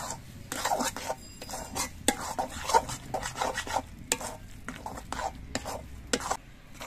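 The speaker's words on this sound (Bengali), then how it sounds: "নুন হলুদ দিয়ে কচু বাটাটা নেড়ে চেড়ে মিশিয়ে দিতে হবে" Mashed mankochu (giant taro) paste with salt and turmeric being stirred in a pan, giving repeated scraping and clinking strokes of a spoon against metal over a low background hum, moderately close and steady.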